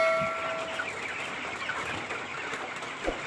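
Broiler chickens at day 21 cluck softly and continuously in a pen at night, a low murmuring chorus of many birds with occasional louder clucks.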